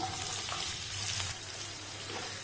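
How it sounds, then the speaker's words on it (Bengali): Chopped onions fry in a pan for a Bengali mushroom masala, a dense, close sizzle with stirring that eases slightly partway through. "এবারে আমি কুচনো পেঁয়াজগুলো দিয়ে দেবো।"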